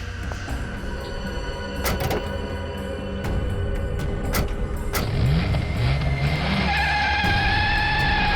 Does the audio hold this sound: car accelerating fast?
yes